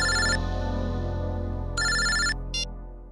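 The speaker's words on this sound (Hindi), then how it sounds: "हेलो, क्या? चेन्नई? ठीक है सर, एयरपोर्ट से फोन था।" An electronic telephone ringtone trills in short bursts, a loud, close ring, a pause, another ring, then a brief clipped chirp over a steady low hum, with no speech.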